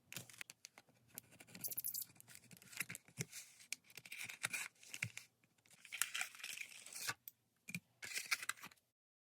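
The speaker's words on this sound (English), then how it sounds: "I'm going to cut the blister pack on this so I can save the card art as well." Blister pack being cut free from a Hot Wheels RLC 2021 membership 1970 Mustang Boss 302 card, giving quiet, close bursts of crinkling plastic, snipping and tearing in an irregular run with brief pauses.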